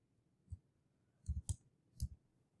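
Computer mouse clicks during a spreadsheet lecture, four faint, crisp clicks in an uneven pattern, with the middle pair close together, alone without talk.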